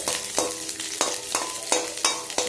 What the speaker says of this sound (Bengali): রসুন কুচিটা দিয়ে একটু ভালো করে একটু নাড়াচাড়া আমি একটুখানি করে নেব।